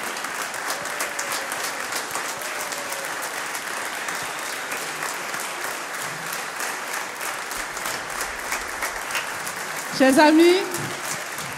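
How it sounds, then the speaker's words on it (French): Steady congregational applause fills a church worship concert hall, even and continuous, before a voice begins addressing the audience near the end. "levez-vous et applaudissons le Seigneur"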